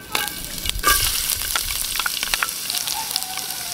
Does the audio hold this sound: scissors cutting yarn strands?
no